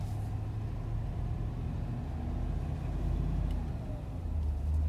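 A 2021 Ford F-250 XL heavy-duty pickup with the 7.3L V8 and 10-speed automatic, driving with a steady low engine drone and road rumble heard from inside the cab, unchanging in level.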